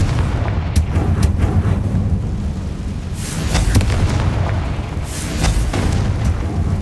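A Confringo spell explosion in the Hogwarts Legacy video game, a series of loud booming blasts and crackling bursts in quick succession over a rumbling low background.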